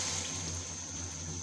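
Warm water poured into a pan of prepared masala for curry, a short continuous splashing stream with a steady hiss.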